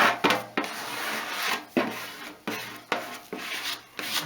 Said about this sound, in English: There's the old squeegee.